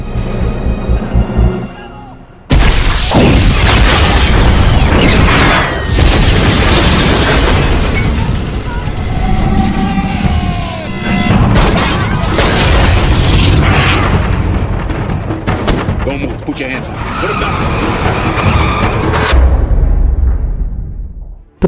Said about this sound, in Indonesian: John dengan segera melepaskan tembakan amunisi bazooka hingga menghancurkan salah satu mobil anak buah Fuentes.